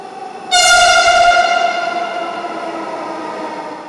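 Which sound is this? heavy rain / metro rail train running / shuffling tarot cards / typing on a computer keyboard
metro rail train running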